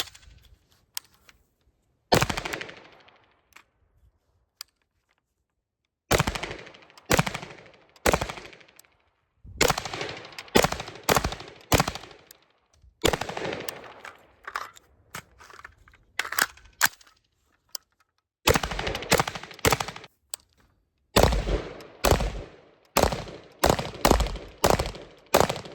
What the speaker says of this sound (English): Go ahead and do a little bit of more shooting with this gun so you can see how it shoots.